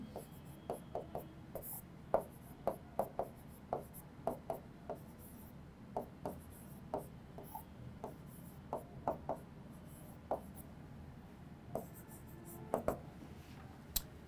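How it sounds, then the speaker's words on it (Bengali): A pen writes out an equation formula for a higher math problem, leaving a quiet, irregular series of short taps and scratches against a soft background hiss. "তাহলে সমীকরণের সূত্রটা আমি লিখে ফেলি"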